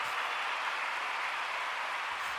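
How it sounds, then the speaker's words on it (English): Steady applause from a small group in the game Nikke, a dense, even wash of clapping hands that holds at a constant level throughout without any voices. "Why are we clapping?"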